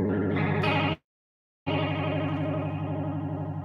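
Electric guitar played through a Headrush pedal with a vibrato effect, producing a sustained, wavering chordal tone that cuts out for about half a second and then rings back in steadily.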